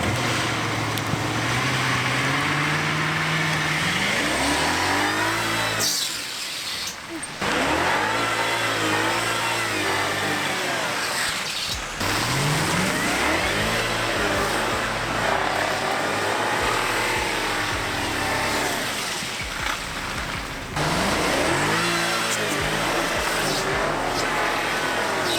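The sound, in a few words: BMW car engine revving while doing donuts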